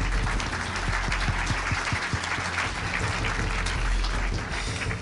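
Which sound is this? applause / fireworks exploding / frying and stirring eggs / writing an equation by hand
applause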